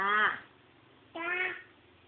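A cat meows twice, two short rising cries separated by a brief pause, close and clear with nothing else around.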